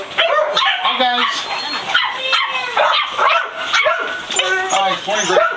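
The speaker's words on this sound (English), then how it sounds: "And now we're heading back to the dogs." Several dogs bark and yip in kennels at an animal shelter, loud, close and overlapping in repeated bursts, with people talking over the noise.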